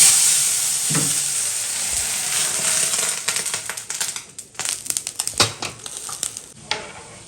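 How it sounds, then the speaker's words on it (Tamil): Mustard seeds and onions fry in hot oil with a loud, steady sizzle, crackling and popping throughout. Scraping and stirring clatters sound against the pan as it goes on, with no speech. "எண்ணெய் ஊற்றி கடுகு 2 வெங்காயம் போட்டிருக்கேன்."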